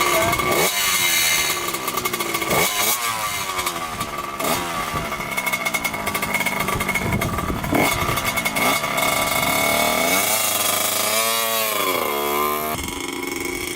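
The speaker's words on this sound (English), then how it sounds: "Chuck's taking it for a little rip." A Honda CR80 dirt bike that is running lean is ridden, its small two-stroke engine buzzing loudly and continuously with repeated revving rises and falls, nearby throughout.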